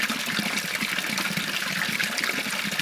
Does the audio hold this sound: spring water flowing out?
yes